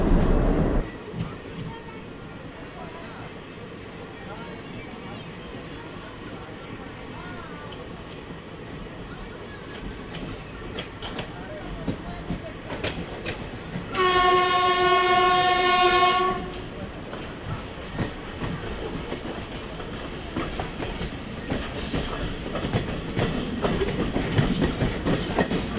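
A passenger train rolls along the rails between Koderma and Madhupur in India, with a steady loud rumble and clatter throughout. A long horn blast sounds midway, and talk is faintly present.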